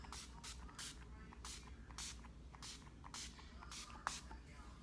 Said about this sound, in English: I'm gonna use some Urban Decay All Nighter Setting Spray.